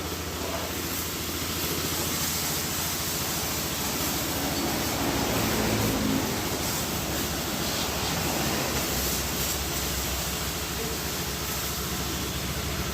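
A steady, loud hiss of high-pressure water at about 70 bar spraying continuously on a Toyota HiAce truck, broad and unchanging throughout with no pauses.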